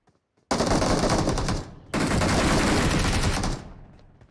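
Two long, loud bursts of rapid automatic gunfire in the mobile battle royale game BGMI, close and sustained, separated by a brief pause, with no talking over them.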